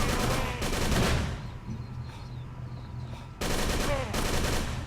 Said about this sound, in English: Just put 6 bullets in this guy and he didn't die.